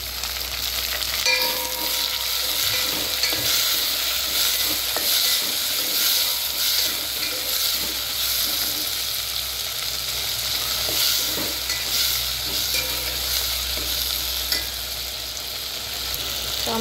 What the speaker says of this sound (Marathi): आता आपण टोमॅटो टाकून घेऊया. टोमॅटो चांगला परतून घ्यायचा.